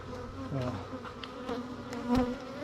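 Honey bees buzz steadily around wax-laden hives, a dense continuous drone with individual bees passing close by in brief louder swells.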